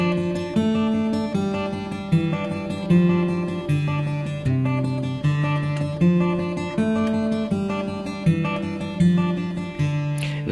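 Guitar melody picked at a moderate, even tempo, each note plucked cleanly and ringing briefly in a steady pulsing rhythm, close and solo with no talking.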